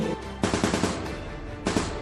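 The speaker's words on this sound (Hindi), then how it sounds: "थोड़ी ही देर में उसकी कार पर फायरिंग होनी शुरू हो गई।" Rapid automatic gunfire aimed at a car, with dense bursts of shots hammering in close succession, loud and near, over a low rumbling background.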